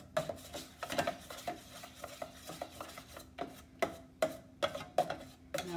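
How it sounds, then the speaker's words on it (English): Butter melting in a pan for Hershey's chocolate frosting while a utensil scrapes the pan's sides: a run of sharp, close scraping and clinking strokes in an uneven rhythm over a low steady hum, with no talking. "You scrape the sides really well."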